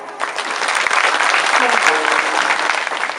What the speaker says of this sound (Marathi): एकदा आमचे गायनाचार्य मंडळी आणि मृदंग सम्राटांसाठी एकदा जोरदार टाळ्या.